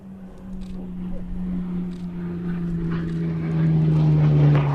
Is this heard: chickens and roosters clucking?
no